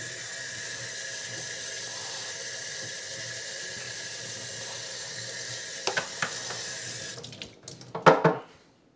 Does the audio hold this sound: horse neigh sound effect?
no